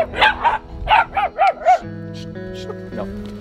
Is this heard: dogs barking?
yes